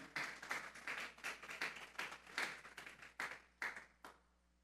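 A church congregation claps in a scattered, irregular rhythm during a Spanish-language sermon on Acts 16, with distinct sharp claps fading out toward the end, fairly soft in a reverberant hall.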